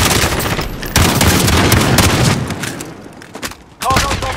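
Automatic gunfire from a Warzone battle royale match, loud dense bursts rattling almost continuously, briefly dropping before a fresh volley resumes, with players talking over the shooting.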